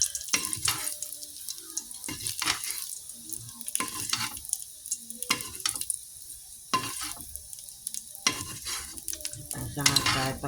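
Hot cooking oil sizzles and spatters as food is stirred in a pan, with repeated scraping and clattering strokes of a utensil against metal, close and lively throughout.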